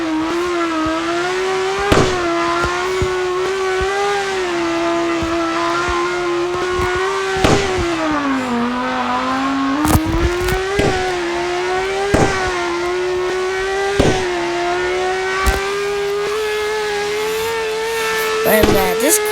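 A fast car in the Roblox video game revs steadily, its engine note rising and dipping through nearly twenty seconds, with sharp clicks and brief squeals punctuating the drone; no one talks.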